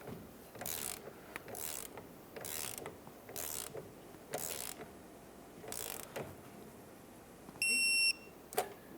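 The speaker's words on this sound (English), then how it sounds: "use a 13mm to snug up your lower mounting nut" A wrench snugs the lower 13mm sway bar link nut on a 2003-2011 Mercury Grand Marquis, making a steady series of close ratcheting clicks in regular bursts. A short electronic beep sounds near the end.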